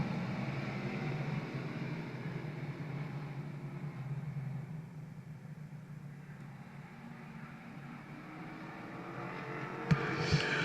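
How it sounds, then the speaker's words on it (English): Late model sportsman race cars rolling off at the start of a 10-lap qualifier, a faint distant engine drone that swells and fades, with a couple of sharp knocks near the end. "Should get a green flag this time by 10-lap qualifier. Late model sportsman, we're going racing."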